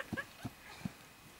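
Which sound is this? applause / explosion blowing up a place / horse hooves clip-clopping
horse hooves clip-clopping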